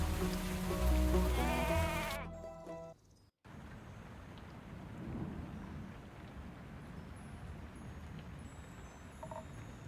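Steady heavy rain with low thunder rumbling outside a quaint tavern in a video game; a short burst of game music opens, then a brief near-silence, then the rainfall continues evenly without talk.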